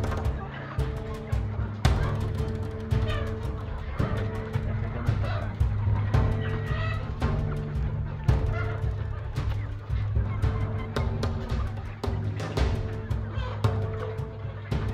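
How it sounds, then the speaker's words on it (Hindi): Nearby roosters and chickens on a poultry farm cluck and squawk continuously with sharp, overlapping calls, a busy flock sounding close and loud. "ये मुर्गे ही ने सारे"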